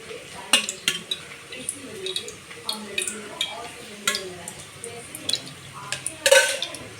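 A pot is set on a stove and oil poured in while making pesarapappu vankaya bajji: light metallic clinks and taps of cookware come in scattered bursts, with a sharper clatter near the end, under a voice talking throughout.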